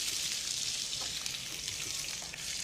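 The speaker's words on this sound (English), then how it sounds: "we're going to brown the meat off. We're going to start with some beef dripping or lard" Chunks of braising chuck steak browning in hot beef dripping or lard, a steady close sizzle filling the whole clip without pause, no voices over it.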